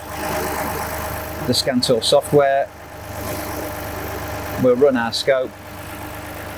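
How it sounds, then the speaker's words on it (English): A four-wheel-drive car engine idles steadily in the background, a low continuous hum that sits under someone talking during ignition testing with an eight-channel oscilloscope. "Okay, so our engine's running."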